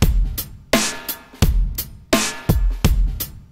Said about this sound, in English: It's kind of a nice lazy hip-hop groove